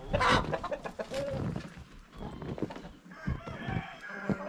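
Chickens cluck and squawk close by in snow in Uzundere, Turkey, with a rooster crowing among them; busy, overlapping farmyard calls throughout.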